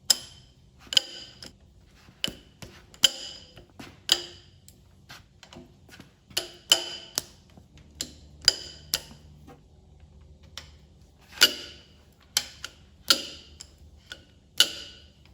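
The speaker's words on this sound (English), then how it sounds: "break loose the rest of the head bolts." A ratchet clicks as it breaks loose the head bolts on a D17 tractor engine, making sharp, irregular clicks in short groups, close and alone in a quiet space.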